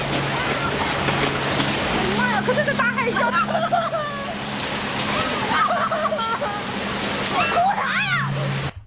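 Raging tsunami floodwater roars as a continuous loud wash of turbulent water, with distressed voices and cries rising over it throughout.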